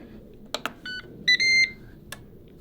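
A Ninja Woodfire outdoor oven sounds electronic tones to signal adding food: two clicks, a short beep, then a louder two-part beep followed by a final click, all in a quiet room.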